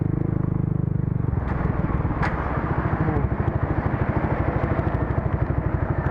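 A Yamaha Xmax 300 scooter on a ride, its engine holding a steady close drone before settling into a fast, even pulsing putter that continues to the end, with no voices.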